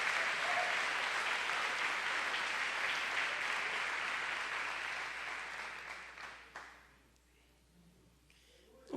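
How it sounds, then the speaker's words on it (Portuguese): A church congregation applauds together in a dense, steady wash of clapping that holds for several seconds, then tapers and fades out near the end, leaving a quiet room. "Dê um aplauso ao Senhor."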